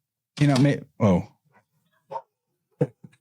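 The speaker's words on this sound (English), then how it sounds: "Dogs went off." Dogs bark nearby in short bursts: two loud barks close together, then a few fainter yips and barks spaced out after them, with no talking.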